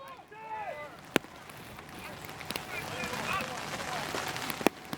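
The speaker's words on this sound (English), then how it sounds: "The rain's picking up now." Steady rain hisses across an outdoor sports field during a match, a broad continuous wash with occasional sharp knocks, moderately loud, with shouting and whistles over it.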